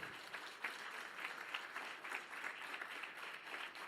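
A congregation at a church service applauds steadily, a dense, even wash of many hands clapping at moderate distance with no voices over it.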